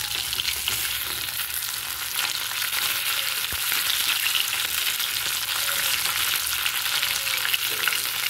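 Parshe fish fry in mustard oil in a pan, a steady, close, loud sizzle and crackle holding evenly throughout with no talking.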